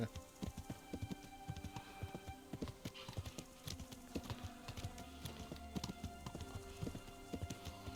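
Horse hooves clip-clopping in the medieval video game Kingdom Come Deliverance, a quick, busy run of close hoofbeats with an even galloping rhythm and faint background game sounds.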